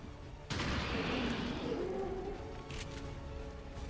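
A soldier's weapon fires in XCOM 2, a sudden loud blast followed by a long rumbling, crackling decay, with a second fainter burst and mechanical clatter trailing after.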